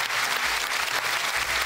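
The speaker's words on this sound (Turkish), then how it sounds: "Cem Cemina için bir alkış rica ediyorum." A television studio audience at the Turkish dance competition Yok Böyle Dans gives dense, steady applause for a contestant. The sound holds at an even level throughout, with a low hum beneath it.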